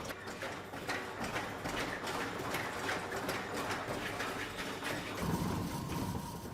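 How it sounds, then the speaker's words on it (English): A computer-controlled hydraulic simulator shakes a truck driver's cab, giving a steady, busy mechanical rattle and clatter with a deeper thump near the end, close and continuous throughout. "This simulator uses hydraulics to test the driver's cab."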